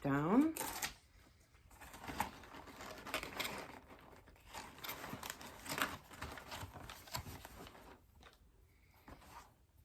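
Packing tape seals a shipping package shut, opening with a sharp screeching pull. Quieter crinkling, rasping and tearing follow at low volume, with talking alongside.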